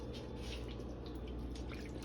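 Liquid aminos poured in a thin, steady trickle over raw vegan food, a soft continuous dribbling and splashing close by with no talk.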